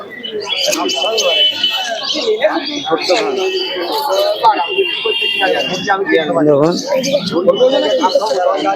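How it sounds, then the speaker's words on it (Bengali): Pigeons call and chirp throughout at a pigeon market in Santipur, with soft cooing mixed in, while a person talks loudly over them nearby. "দেখুন এই একটা কবুতর খুব সুন্দর কবুতর"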